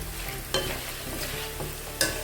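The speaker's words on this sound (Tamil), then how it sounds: "இப்போ நான் கிண்டையில் சலசலன்னு சத்தம் கேட்கும் பாரு" Spinach sizzles and crackles while frying in a hot pan, with a couple of sharp stirring scrapes breaking through the steady frying hiss.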